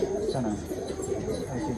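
Pigeons cooing in a loft, repeated low rolling coos from several birds overlapping close by, steady and moderately loud, with faint background voices.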